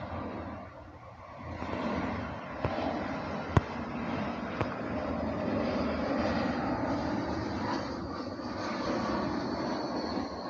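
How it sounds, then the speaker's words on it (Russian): Aircraft passing over a park with a cascade of ponds in Adler, a broad steady engine roar that swells after a brief quieter moment and holds across the whole stretch, with a couple of sharp clicks on top. "Ну как без самолетов обойтись здесь?"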